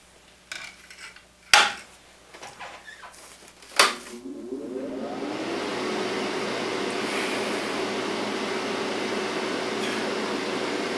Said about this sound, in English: so much for not turning on the fan